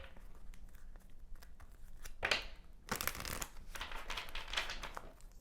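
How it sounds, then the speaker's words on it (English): A deck of tarot cards is shuffled by hand. Soft papery riffles and rustles come up close in a quiet room, with a brief flurry followed by a longer run of shuffling. "I know I'm shuffling a lot."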